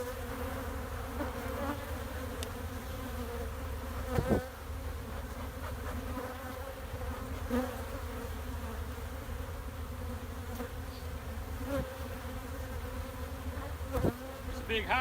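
Honeybee colony buzzing inside a house wall as boards are pulled off, a dense, continuous drone of many bees with faint knocks and taps scattered throughout.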